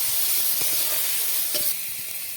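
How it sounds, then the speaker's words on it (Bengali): Spices and onion frying in hot oil for a fish curry, a steady close sizzle with a few light scrapes of stirring throughout. "ভালো করে মশলাটাকে একটু ভেজে নিতে হবে"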